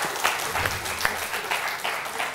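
Studio audience on a game show clapping in a brief burst of steady applause, close and continuous throughout.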